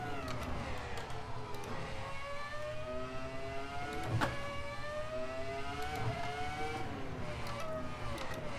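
A car engine revs steadily with rising and falling pitch sweeps as it shifts through gears, continuous and fairly loud, with tire or road noise underneath.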